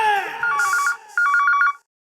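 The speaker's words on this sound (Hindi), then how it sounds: "फोन उठाइए मैडम, फोन उठाइए" A telephone rings nearby with two bright, trilling electronic bursts separated by a short pause, loud and clear, then stops.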